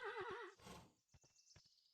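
A horse in the video game Kingdom: New Lands gives a loud, wavering neigh at the start, then a few sharp hoof clops follow in a loose rhythm.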